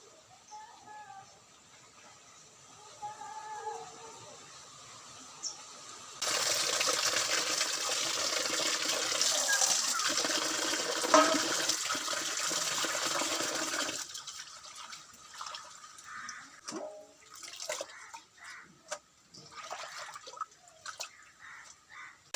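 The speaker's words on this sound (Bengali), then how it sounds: "নিম আর বেগুনটা জল দিয়ে ভালো করে এখন ধুয়ে আনি" Running tap water gushes loudly for several seconds as neem leaves and eggplant are rinsed, preceded and followed by quieter drips, splashes and handling sounds of the vegetables in water.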